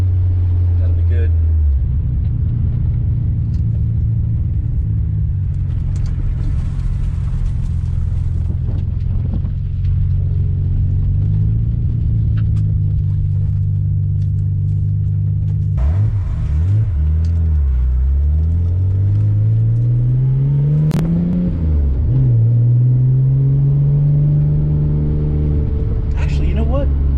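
An RB26-engined car with dual wideband control pulls hard from low speed. The loud engine note climbs steadily in pitch through the revs and drops between gears, with voices talking inside the cabin.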